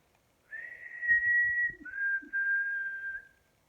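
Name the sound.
whistled imitation of bird call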